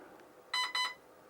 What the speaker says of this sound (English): ESC is going to make a noise. It's going to go beep, beep, beep, like that.